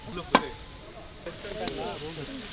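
Chopped tomatoes and green chillies frying in a pan with ginger and garlic, a soft, steady sizzle broken by one sharp utensil click near the start, with faint voices in the background.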